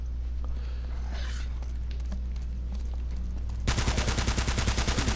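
Rapid gunfire from the video game Uncharted: Drake's Fortune, in a bunker level, starts abruptly in the last second and a half as a dense loud burst of repeated shots after a quieter stretch of low game ambience.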